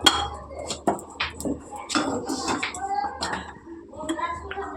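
Metal utensils clink and knock against a kadai wok on a home stove, with sharp scattered taps and scrapes and a low background hum, while someone talks over them.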